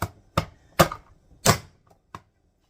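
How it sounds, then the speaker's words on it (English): Five separate knife chops through white onions on a cutting board, sharp close thuds at an uneven, unhurried pace with quiet pauses between them. "So we're actually going to chop up white onions too."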